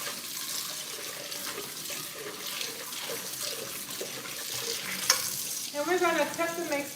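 Water runs steadily from a kitchen tap during cleanup while baking a chocolate cake, a continuous broadband rush with light clatter of dishes, ending in a brief burst of splashing near the sink.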